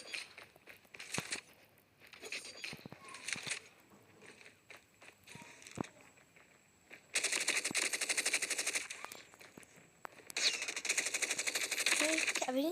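A shooting video game fires weapons. Scattered clicks and single shots give way to two long stretches of rapid automatic fire, loud and close, while a player's voice talks at times.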